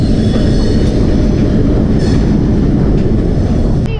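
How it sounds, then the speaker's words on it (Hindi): Thall Express passenger train rolling into Attock railway station on the ML2 line, a loud, continuous close rumble of wheels and carriages with steady clatter throughout, no voices. "रेलवे स्टेशन पे हमारी एंट्री हो रही है अभी"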